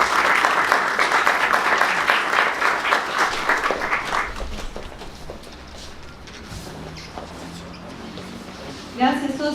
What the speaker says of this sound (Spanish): Por favor, un fuerte aplauso para ellas.